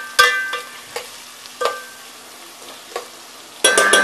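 Onion with a pinch of asafoetida sautés in a pan at a village kitchen, a quiet faint sizzle punctuated by several distinct spoon scrapes and clatters against the pan, close, with a louder clatter near the end and no talking.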